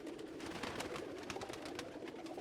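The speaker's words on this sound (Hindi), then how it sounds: "इसमें जनाब कांटे वाले कबूतर भी हैं" Pigeons of several fancy breeds, kept in a loft for sale, coo continuously in overlapping, throaty calls, close and steady with no voices.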